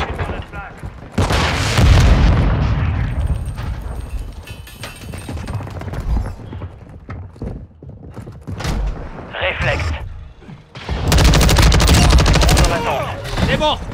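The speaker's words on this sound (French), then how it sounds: "Je lance une grenade flash!" Explosion and gunfire in Call of Duty Warzone 2.0 with a flash grenade thrown, loud bursts of blasts and shots at the start and again near the end over a continuous game-sound bed, with a voice talking in between.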